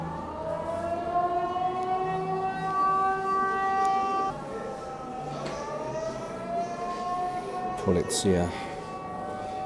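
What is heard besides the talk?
air raid sirens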